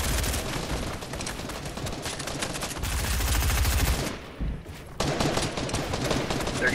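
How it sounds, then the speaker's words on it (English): Gunfire in Fortnite, dense rapid bursts of automatic shots, loud and sustained, broken by a short lull before the firing resumes. "Just another team is shooting at me."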